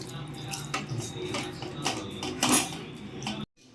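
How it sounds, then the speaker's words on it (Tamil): Water pours into a cooking pot of chicken pieces with garlic, a steady splashing wash with metallic clinks of utensils and pans, running continuously for a few seconds before cutting off abruptly. "கறி வேக தண்ணி ஊற்றிக்கலாம்"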